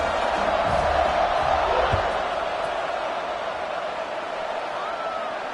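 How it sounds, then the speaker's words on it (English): A college football stadium crowd at Cal versus BYU keeps up a dense, steady roar of murmuring and cheering after a touchdown, loud and continuous, with a few thuds near the start. "this crowd is buzzing after that last score."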